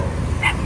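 One dog gives a short bark from among several dogs kept at a house, heard briefly against steady background noise.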